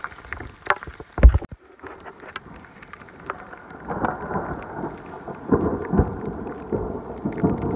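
Rain falls steadily in mountain backcountry while a hiker shelters behind trees and a rock, preceded by a sharp close impact and rustling; the downpour builds into a continuous, fairly loud patter over several seconds.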